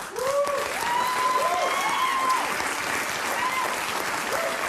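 Studio audience applause on Bill Maher's talk show: a sustained, dense wash of clapping that runs the whole stretch, with a few rising whoops or cheers riding over it.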